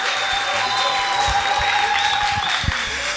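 An audience at an amapiano music show applauds loudly and steadily, a dense wash of clapping that holds across the whole stretch, with a few voices faintly underneath.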